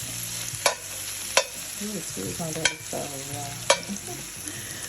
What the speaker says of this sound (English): we're going to caramelize these onions.